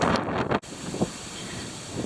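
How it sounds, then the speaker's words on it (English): Strong wind buffets a microphone outdoors in cold weather beside a garden worm farm, a loud continuous roar with a brief dropout partway through and gusts swelling again after. "it's very windy and it's very cold"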